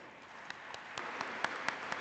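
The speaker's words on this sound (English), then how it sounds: "please have a huge round of applause." Students clapping in applause at a student induction ceremony, a steady patter of many hands with a few sharper claps standing out, moderately distant and fairly soft.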